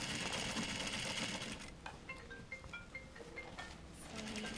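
Sewing machine stitching the neck edge of a jacket collar, a close, quiet, rapid mechanical whirring and ticking that runs steadily through the clip with no talk.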